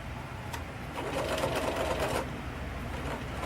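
Close, steady buzz of a sewing machine stitching two pieces of fabric with a piecing foot, swelling briefly louder mid-run before settling back.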